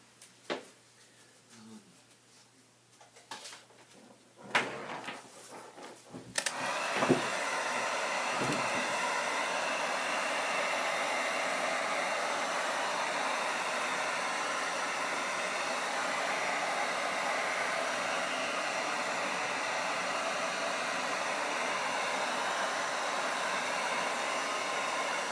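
A heat gun blows on fluid acrylic paint, switching on after a few soft handling clicks and then running as a steady, loud, close airy whoosh.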